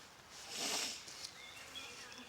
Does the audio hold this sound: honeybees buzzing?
yes